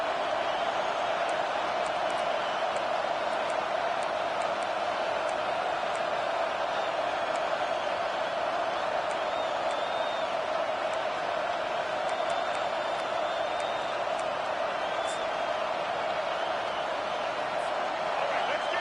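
In College Football 25, a home stadium crowd roars on third down, a steady, unbroken wall of cheering that holds the same level throughout, with commentary voices running over it.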